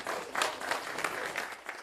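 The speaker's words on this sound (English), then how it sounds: "Round of applause for Elsie." Audience applause at an Anishinaabe community gathering, a short burst of steady clapping from a crowd, moderately loud and continuous.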